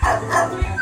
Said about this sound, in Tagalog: Guys, marami aso.